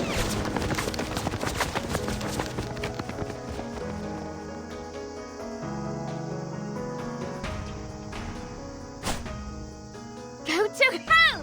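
Video game gunfire from Reverse: 1999 crackles in rapid bursts over a musical score, heaviest at the start and then thinning into scattered shots. Voices talk over the action.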